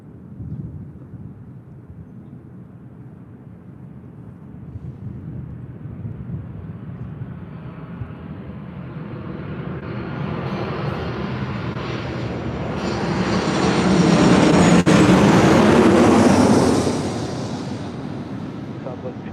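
A United Airlines Boeing 737-900ER lands on runway 24 left at LAX, a distant jet roar that builds steadily to a loud peak as it passes, then fades; radio chatter sits faintly underneath.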